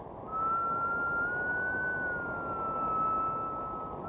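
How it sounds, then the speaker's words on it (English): A train whistle sounds as one long sustained note whose pitch creeps upward and then sinks back down as the train passes, clear and steady over a soft rumbling background. "As the train comes towards you and goes away, the note rises and then falls"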